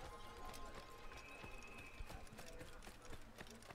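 Horse hooves clip-clop at a quick, steady gait in Assassin's Creed, sharp repeated thuds from a single horse over a low background, quiet overall.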